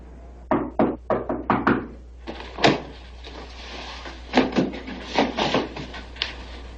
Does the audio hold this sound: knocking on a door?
yes